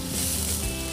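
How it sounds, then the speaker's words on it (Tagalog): Minced onion sautés in hot oil for pork meatball soup with misua and patola, a brief, loud, close hiss of sizzling. "Lalagay lang tayo ng mantika dahil tayo ay magigisa na."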